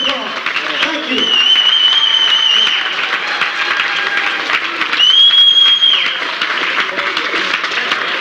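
Audience applause in a university lecture hall after a talk, a steady broad wash of clapping running the whole time with a brief swell partway through, heard under a speaking voice.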